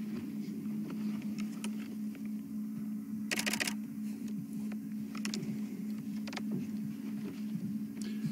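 Camera shutter clicks from a few snapshots taken on a morning bush safari while watching a male leopard, sharp scattered clicks over a steady vehicle-like hum.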